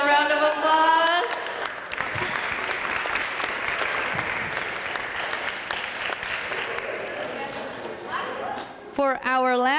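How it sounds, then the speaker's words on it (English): An audience at a kindergarten holiday concert breaks into sustained, hearty applause for several seconds, with voices heard briefly just before and after the clapping. "Let's give them a round of applause."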